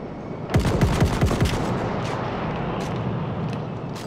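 Gunfire from a Selbstlader 1906 semi-automatic rifle in Battlefield 1, five sharp shots in quick succession, followed by fainter distant battlefield pops and rumble.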